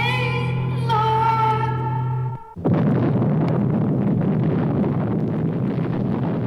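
In the film Planet of the Apes, a sustained tonal hum breaks off, then a massive bomb explosion erupts into a loud, rumbling roar that keeps going without easing.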